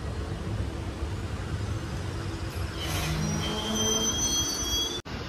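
Shamli–Delhi passenger train pulling out of Barka station at dawn, a low steady rumble of rolling wheels with a brief hiss partway through and thin squealing tones toward the end, ending in a sharp click.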